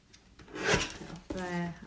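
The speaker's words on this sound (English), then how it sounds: "I'm just going to grab my little guillotine and we'll just trim this little sentiment down" A small paper guillotine trims a card sentiment with a short scraping slide of the blade across the card, quiet and close, followed by a brief rubbing scrape.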